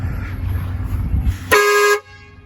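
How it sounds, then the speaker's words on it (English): An air horn fitted to an MC9 bus RV conversion gives one short, loud, bright blast lasting about half a second, following a low rumbling engine background. "Listen to that horn!"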